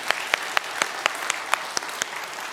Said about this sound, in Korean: 우리 감사의 박수 한번 할까요?